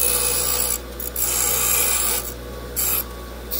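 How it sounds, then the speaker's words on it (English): A grinder or flap disc bevels the cut ends of bolts for a 1927 Ford TT steering wheel and battery box project, giving a steady harsh rasp across the whole clip that dips briefly in a few short breaks. "Take them on your grinder"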